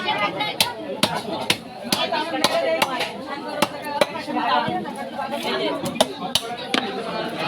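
Sharp, regular chopping thuds as fish is cut at a busy fish market, each knife strike distinct and close, heard under steady crowd chatter and nearby talking.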